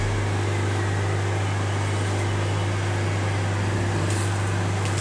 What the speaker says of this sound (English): Again, we expose it to the blower.